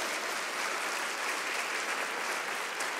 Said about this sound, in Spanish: dale un aplauso más fuerte al Rey de Reyes